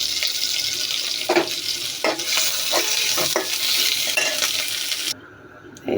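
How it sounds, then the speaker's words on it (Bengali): Onions fry in hot oil until crisp for beresta, a dense steady sizzle with periodic spatula scrapes against the pan, close up, cutting off abruptly near the end with no speech. "তেল গরম হয়ে গেছে, এগুলো আমি বেরেস্তা করে ফেলবো"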